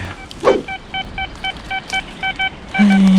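A metal detector sweeping the forest floor during a search for buried items gives a steady run of short, evenly spaced electronic beeps, followed by a longer, lower continuous tone at the end.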